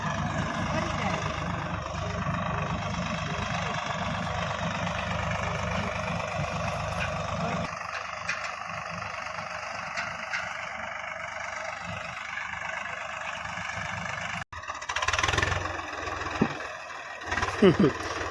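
A tractor engine runs steadily while hitched to a long potato planting machine in a farm field. The drone is loud and continuous, briefly drops out near the end, then returns with some rougher knocks.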